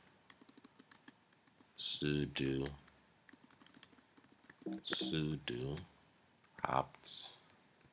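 Keystrokes on a computer keyboard while entering server install commands, a brief run of soft clicks between stretches of a man's close speech that dominates the clip.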